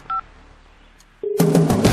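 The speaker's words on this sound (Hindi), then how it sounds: "जिस नंबर से तुम्हें फोन आया था उस पर रीडायल करो" A single short keypad tone beeps, followed after a pause by a louder burst of mixed telephone dialing tones.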